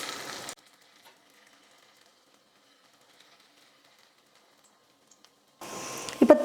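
Potato snack batter sizzles in hot oil, crackling in two short bursts at the start and end with near silence between them.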